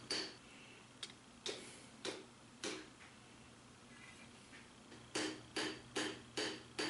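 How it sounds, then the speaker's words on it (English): Steel hammer blows forge a kopis short sword blade from a lawnmower blade, drawing out the edge and back: a few spaced ringing strikes, then a faster run of about five sharp hits, fairly close over a quiet background. "I'm just hammering it flat, drawing it out on both sides"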